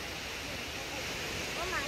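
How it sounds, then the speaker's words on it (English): Waterfall near Ta Van village in Sa Pa, Vietnam, a steady, hissing rush of falling water heard from some distance, with faint murmurs toward the end. "Came to the waterfall"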